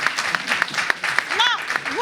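Audience applause at a live French-language show, broken bursts of clapping with a few whistles and voices rising over it, moderately loud and close.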